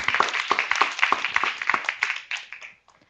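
A conference audience claps to welcome a speaker at an internet governance forum, a fairly close round of distinct individual claps that thins out and dies away near the end.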